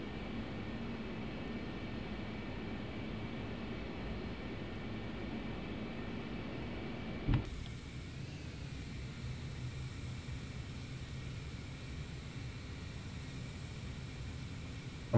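A Concorde taxiing after landing at Keflavik in Flight Simulator X gives a steady, muffled engine drone and broadband rush, with a sudden click partway through after which the tone shifts slightly quieter.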